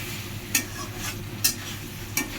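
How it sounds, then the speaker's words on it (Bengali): A spoon scrapes and stirs spice masala for a taro dish in a frying pan, three sharp scraping strokes spaced about a second apart over a soft, steady sizzle. "মশলাটাকে এখন ভালো মতো আবার কষিয়ে নিতে হবে"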